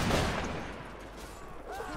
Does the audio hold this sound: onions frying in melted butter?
no